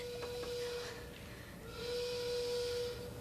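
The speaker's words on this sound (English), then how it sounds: "it sounds like the noon whistle at the shoe polish factory" A thin, steady whistle tone, like a factory noon whistle at a shoe polish plant, holds at a fairly faint level for most of the stretch over a soft hissing background, dipping briefly partway through before sounding again.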